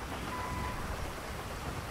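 Steady rain falls in GTA V, an even, continuous hiss of moderate loudness with no breaks or other clear sounds.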